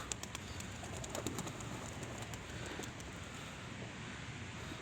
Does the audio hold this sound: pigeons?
yes